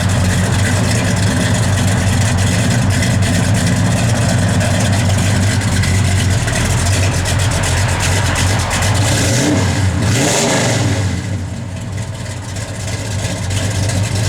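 A 1969 Chevrolet Chevelle SS runs with a loud, close engine note, steady rumbling revs that swell near the end and then settle back toward idle.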